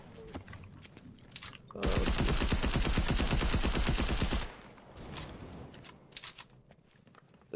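Sustained automatic gunfire in Fortnite, one long loud burst of rapid shots lasting a couple of seconds, framed by scattered lighter shots and clatter before and after.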